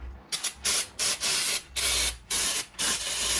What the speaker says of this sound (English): Start off with a slight